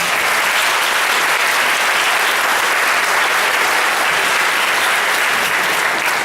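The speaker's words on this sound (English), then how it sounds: "Let's give them a round of applause." Audience at a 2018 high school graduation ceremony breaks into sustained, loud, dense applause that holds steady throughout, with no talk over it.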